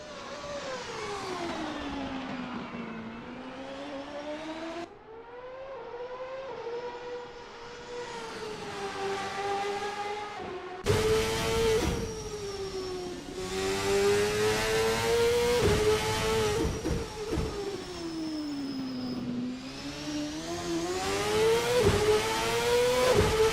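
A 99 CART race car engine at Laguna Seca in a racing video game, close and loud, its pitch dipping and climbing as it brakes and accelerates through turn 6, with sharp gear changes and a steady roar.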